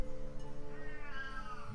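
A pet cat named Sammy lets out a single drawn-out, yowling meow that rises and bends in pitch, close by and clear over a low background hum.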